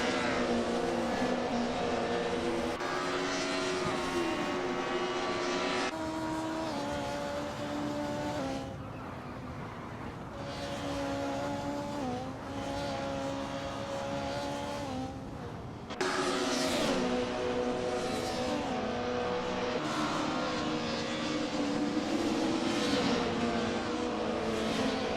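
Race cars on Autodromo Lago Maggiore GP Reverse in an AI racing video game, multiple engines revving and braking through tight corners and long straights, a layered whining roar with pitch sweeps and brief dips.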